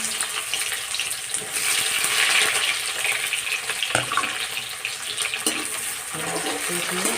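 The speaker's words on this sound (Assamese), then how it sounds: "এতিয়া তেল গৰম হৈছে, মই এতিয়া পিঁয়াজ দিছোঁ।" Sliced onion sizzles in hot oil in a pan, giving a steady, fairly loud hiss with crackling throughout and a few brief clinks of a utensil.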